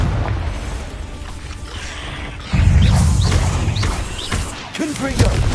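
Confringo fire spell blasts in the video game Hogwarts Legacy: a loud, close booming burst that swells partway through and rumbles on, with a second hit near the end, mixed with game effects and a voice.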